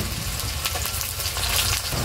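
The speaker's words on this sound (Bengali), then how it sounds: "মাছের তেলের মধ্যে আবার একটু সরষের তেল দিয়ে দিচ্ছি। জিরে ফোড়ন করে নেব।" Cumin seeds tempering in hot mustard oil added to leftover fish-frying oil give a dense, steady, close sizzle that crackles on without pause for the whole moment, with no voices.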